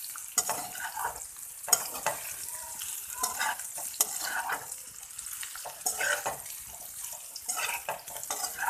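Potatoes frying with spices in a pan, a soft hissing sizzle broken by repeated scraping and tossing strokes in an uneven rhythm, heard up close and moderately quiet without any talk.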